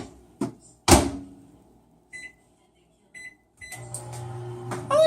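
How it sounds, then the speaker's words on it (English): A door thump and clicks, a few electronic beeps, then a low steady hum starts as a microwave oven begins running, ending with another chime. "pop this in the microwave"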